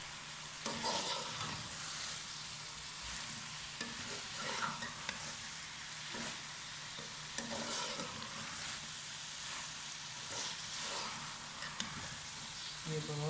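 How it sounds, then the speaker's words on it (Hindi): Fried taro (arbi) leaves being stirred into potato bhujia in a pan: a steady, soft sizzle runs throughout, with scraping stirs and light clinks of the spoon against the pan now and then. "अब हम इसमें अरबी के पत्ते जो फ्राई करके रखते हैं ये डालेंगे और अच्छी तरीके से इसको मिक्स करेंगे"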